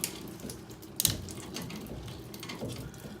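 Water runs steadily from a MOEN shower faucet during cartridge removal, a continuous moderate hiss with a brief clattering knock about a second in.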